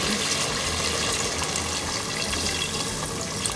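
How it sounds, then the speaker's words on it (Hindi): Water being poured into a pot of mutton chop curry with potatoes, a steady, loud rushing gush that runs continuously without a break. "अब मैं इसके अंदर जितने मुझे ग्रेवी चाहिए और मेरे आलू गल जाए, मैं इतना ही पानी डालूँगी।"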